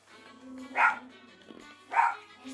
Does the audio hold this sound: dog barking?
yes